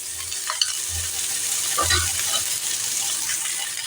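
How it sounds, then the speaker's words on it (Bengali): Sliced ridge gourd sizzles steadily in a hot pan on high flame, with a few scraping stirs of a spatula breaking through the continuous hiss. "এবার এটাকে হাই ফ্লেমে কিন্তু রান্না করবেন একদম হাই ফ্লেমে"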